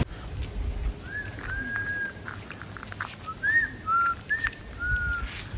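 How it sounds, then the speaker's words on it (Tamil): A Malabar whistling thrush sings a series of clear, rising and falling whistled phrases over a low rumble of background noise in a forest setting around Valparai. "மலபார் விஸ்லிங் த்ரஷ் இங்கிலீஷ்ல"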